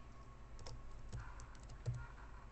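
Someone types code on a computer keyboard, a quiet run of scattered key clicks over a low hum.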